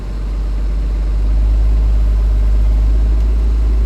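A bus engine revs to around 1100 RPM while in drive with the brakes held, a steady, loud low rumble that builds slightly in the first second and then holds constant with no talking.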